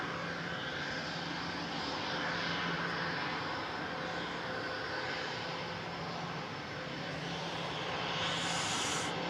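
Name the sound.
Turkish Airlines Airbus A321neo jet aircraft engines at airport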